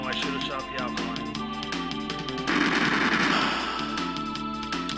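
Gunfire sound effects from the SNES game Chrono Trigger crackle in rapid bursts over looping chiptune battle music, the shots steady and prominent throughout.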